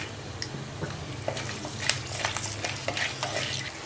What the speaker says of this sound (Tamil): இப்போ தாளிக்கிறதுக்கு போட்டுக்கலாம்